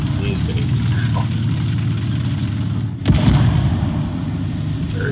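A single heavy tank-cannon boom in War Thunder cracks out over a steady, low idling engine rumble, followed by a short swell of debris and rumble.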